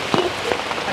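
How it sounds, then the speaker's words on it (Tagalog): Heavy rain pours on a foggy, windy mountainside, a dense steady hiss with a brief vocal sound at the start. "Ang lakas ng ulan,"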